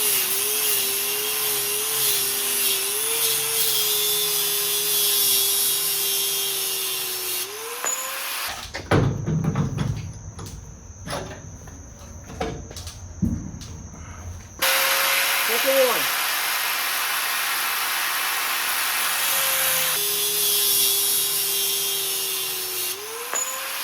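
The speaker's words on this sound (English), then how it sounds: "we're gonna go ahead and use the angle grinder, cut them off" An angle grinder cuts metal during a dual long-tail mud motor build, a whining drone followed by a stretch of harsh, bursty cutting and scraping, then the steady whine returns; close and loud, with no talk.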